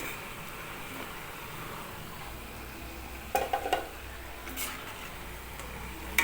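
Bonda made from wheat flour, dosa batter and onion fries in hot oil with a steady, even sizzle throughout, broken by a few light clinks of a utensil.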